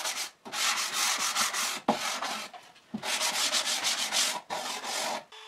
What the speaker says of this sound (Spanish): Una lijadita suave para que quede todo más curioso.